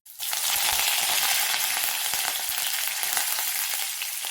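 Asafoetida and curry leaves fry in hot oil for an eggplant chutney, giving a loud, steady, dense sizzle that starts abruptly and holds evenly throughout with faint crackles.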